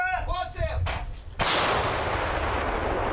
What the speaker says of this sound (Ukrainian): досипають росіянам зі старенької радянської самохідки